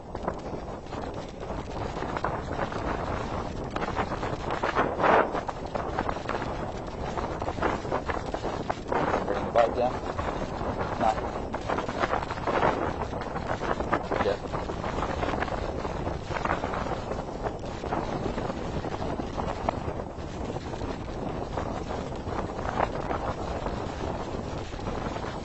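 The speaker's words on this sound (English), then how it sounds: "Down there sometimes, isn't it? That wind." Steady wind blows on Busselton Jetty, a constant broadband buffeting across the microphone throughout, with faint voices partly buried beneath it.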